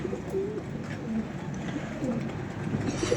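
Pigeons coo on a rooftop pigeon loft, a soft, repeated throaty cooing running steadily throughout, close and moderately loud over a low murmur of background noise.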